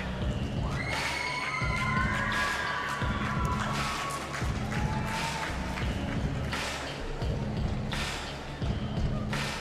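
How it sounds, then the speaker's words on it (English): Arena crowd at the 2024 Rhythmic Gymnastics European Championships applauding and cheering after a routine, a sustained wash of clapping with shouts, over a rhythmic thumping beat of arena music. "Deservedly taking a moment to bask in the applause of the crowd who have appreciated her fine work."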